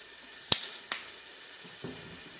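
Mushrooms with paprika and soy sauce fry in a pan under a quiet sizzle, broken by two sharp utensil clinks as they are mixed and a softer scrape near the end.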